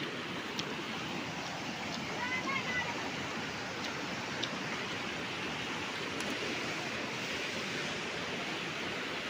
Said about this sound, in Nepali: त्यो चाहिँ रङ्गीत खोला